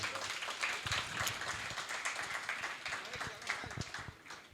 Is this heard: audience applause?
yes